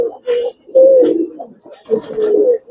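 Giribaz and coloring pigeons at a pigeon farm coo in close, throaty, rolling phrases, several bursts in quick succession with short pauses between, clear and fairly loud.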